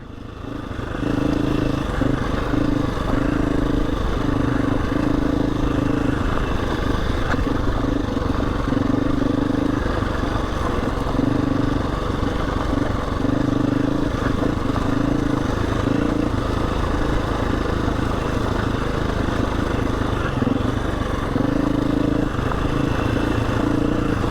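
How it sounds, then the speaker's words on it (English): Husqvarna 350 dirt bike ridden off-road in the Yorkshire Dales near Scarhouse Reservoir, engine droning loud and continuous with rhythmic throttle pulses and rattling clatter, close to the rider throughout. "I thought I could hear another bike behind me then"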